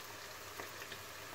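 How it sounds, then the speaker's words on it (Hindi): Salt, black pepper, red chilli and turmeric frying in a pan for aloo gobhi salan, giving a steady, soft sizzle with a few faint crackles, heard alone and close. "और इसको अच्छी तरह भून लेंगे।"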